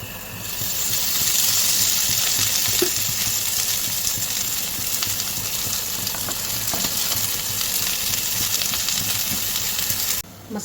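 Garlic, ginger and onion roast in a little oil in a pan for a village-style Khandeshi chicken curry, giving a loud, continuous sizzle and crackle that runs without a break.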